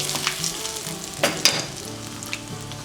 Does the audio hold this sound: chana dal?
yes